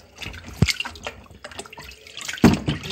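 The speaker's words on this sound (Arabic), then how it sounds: "هنبدأ نغسل السمك من المية بالخل بالليمون" Water runs and splashes while fish is washed in a kitchen, with irregular close splashes and drips and two louder gushes.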